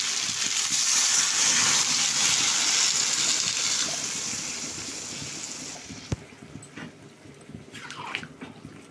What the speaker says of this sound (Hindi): मैं डाल दूँगी पानी।